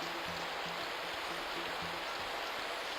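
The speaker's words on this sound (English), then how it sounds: "the sound of the water just stopped" Steady, broad rushing of flowing water in the sewage plant level of the Nintendo 64 Spider-Man game, a continuous hiss under faint repeating low game tones, with no talk.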